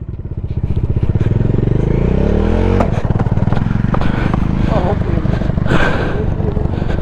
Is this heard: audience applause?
no